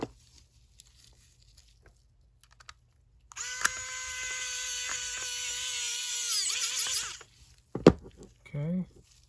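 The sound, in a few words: electric screwdriver driving screws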